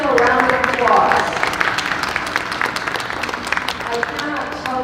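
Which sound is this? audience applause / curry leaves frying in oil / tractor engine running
audience applause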